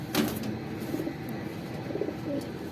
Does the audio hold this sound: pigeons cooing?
yes